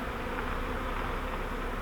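Honey bees from a freshly caught swarm buzz in a dense, continuous drone, loud and close throughout with no voices.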